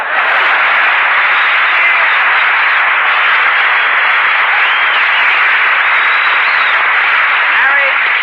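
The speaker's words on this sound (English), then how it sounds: "Applause." A studio audience for a 1945 radio comedy broadcast from Fitzsimmons Hospital bursts into loud, sustained applause, a dense, even roar of clapping that fills the space for several seconds, recorded on an old broadcast.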